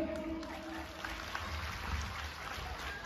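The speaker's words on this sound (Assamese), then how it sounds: "ৰংমন এনাজৰী বিহু হুঁচৰি দলটিলৈ এটা জোৰদাৰ হাত চাপৰি" Applause from an audience for the Rangman Anajori Bihu husori dance group, a steady wash of clapping lasting a few seconds at moderate distance, with no voices standing out.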